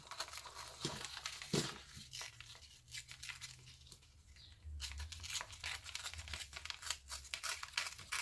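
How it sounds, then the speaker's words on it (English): Paper torn by hand for a collage journal, close ripping and crinkling strokes in repeated bursts with brief pauses between them. "I don't want to tear too much off"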